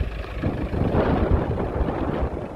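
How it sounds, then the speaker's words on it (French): Steady low rumbling wind buffeting the microphone, a continuous muffled roar with no voices. "Il y a pas mal de vent"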